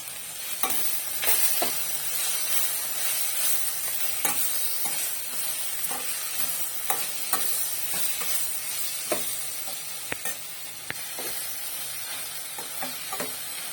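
Mint leaves are sautéed in a pan for chutney, giving a steady soft sizzle broken by repeated scraping strokes of a spatula at an irregular pace.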